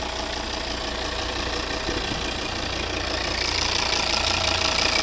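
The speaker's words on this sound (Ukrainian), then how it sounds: "Ось робота двигуна." A 2010 Volvo XC60 AWD with the 2.4 D5 diesel engine idles under an open hood, a steady low mechanical hum and clatter, close and even, growing slightly louder near the end.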